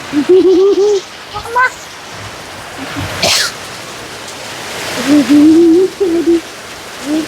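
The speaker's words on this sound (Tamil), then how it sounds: "ஆனால் இப்போ வந்து ஒரு அரை மணி நேரமாக சரியான மழை" Heavy rain pours steadily in Kozhikode, a constant wash of noise beneath someone talking, with a few brief louder bursts.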